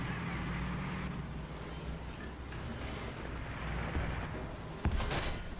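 A BT-7 tank's F-32 cannon in War Thunder booms once near the end over a steady rumbling engine and battlefield noise, with a sharp loud report standing out from the constant drone.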